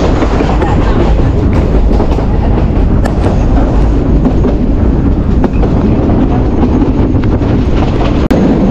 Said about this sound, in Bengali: ট্রেনটা এখানে দাঁড়াবে, আদমদিঘি স্টেশনে এখন ট্রেন দাঁড়াবে